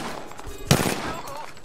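Burst of gunfire in the video game Apex Legends, a short loud volley standing out over a busy game soundscape of background effects.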